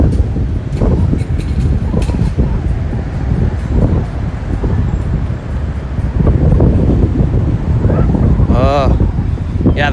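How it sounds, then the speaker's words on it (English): Strong wind buffets an outdoor microphone in San Francisco, producing a loud, steady low rumble that roars for the full ten seconds. "Oh, yeah, the wind is hardcore."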